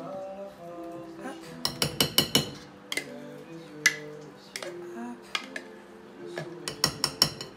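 Fork working meatball mixture in a bowl, with clusters of sharp clinks and taps against the dish under a quiet voice that speaks briefly, close by.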